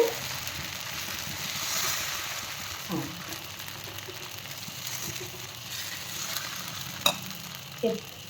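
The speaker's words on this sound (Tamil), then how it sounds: "தோசைக்கல்ல ஊற்றுறேன். இப்போ எண்ணெய் 2 கரண்டி மாவு ஊற்றி" Steady, soft sizzling of thick millet-leaf dosa batter in oil on a griddle, with a few light clicks and scrapes along the way.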